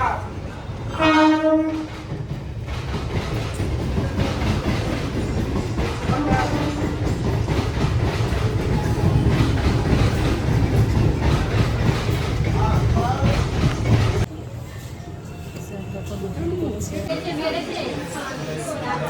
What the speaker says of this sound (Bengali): এই ট্রেনটা আমাদের আমতার ট্রেনটাই এখন হাওড়ার দিকে যাচ্ছে